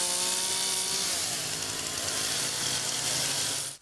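Chainsaws buzz loudly and steadily as artists carve wooden sculptures at an international wood sculpture festival, the whine of engines held at high revs continuing without pause, with no talk.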